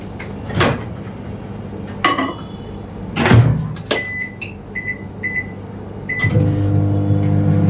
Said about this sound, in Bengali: এখন এটা আমি ওভেনে 20 সেকেন্ড গরম করতে দিব